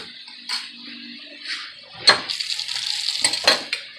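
A metal spoon clinks and scrapes against a dish while tomato paste is served during microwave lasagna prep, several sharp separate clatters followed by a busier stretch of scraping.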